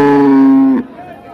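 A cow with its calf at a border-area cattle market gives one loud, close, sustained moo that cuts off abruptly after nearly a second, leaving quiet market background.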